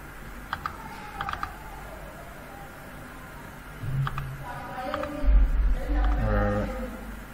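Keys tapped on a computer keyboard while building a 3D figure, heard as a few sparse clicks and short bursts of typing, fairly quiet, with some low handling noise toward the end.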